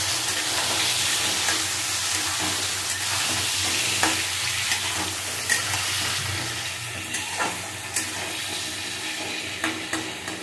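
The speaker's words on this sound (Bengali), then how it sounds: "কচুগুলো এর সাথে আমি ভেজে নেবো" Taro pieces frying in oil in a pan for a Bengali hilsa curry: an even sizzle with scattered clinks and stirring knocks of a spatula, no talking.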